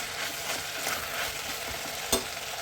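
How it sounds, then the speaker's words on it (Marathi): Chickpeas are stirred in a hot sizzling spice tempering in a pressure cooker, a steady frying hiss with soft scraping strokes and one sharper clack near the end. "फोडणीमध्ये चना व्यवस्थित असा मिक्स करून घेतलेला आहे"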